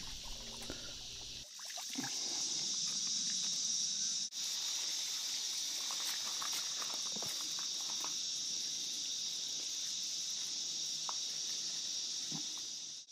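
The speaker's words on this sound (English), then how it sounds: "When I feel the water is past its best, I simply use it to water the garden." Old bath water from an outdoor solar-powered bath at a shipping container house is poured out onto the garden. It makes a steady, continuous trickle under a constant high hiss of insects outdoors.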